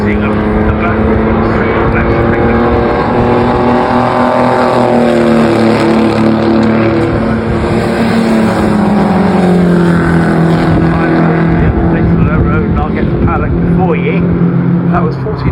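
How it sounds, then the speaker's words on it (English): A 1400cc supercharged Bellevue Special race car roars down the straight at a Brands Hatch race meeting, its engine note loud and continuous with rising and falling pitch as it passes, while a commentator talks over it. "That was 1400 supercharged cc's of the Bellevue specials."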